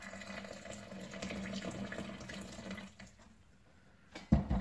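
Water is poured over tea leaves to rinse them, pressed pu-erh cake leaves from 2013 Nan Jian: a close, steady splashing pour for about three seconds that tapers off, followed by a soft clink of teaware.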